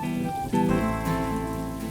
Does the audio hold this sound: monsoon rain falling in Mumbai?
yes